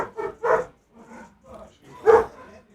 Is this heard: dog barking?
yes